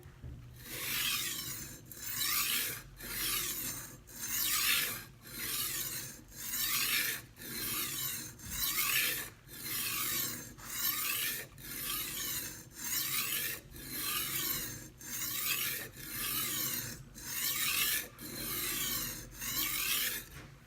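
A knife blade scrapes back and forth on a coarse sharpening stone in steady, loud, rhythmic strokes, roughly one per second and repeated many times, with no talking.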